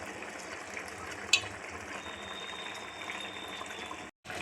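Ginger garlic paste frying in oil in a clay pot for chicken dum biryani, giving a steady, soft sizzling hiss with one brief clink partway through and a sudden cut near the end.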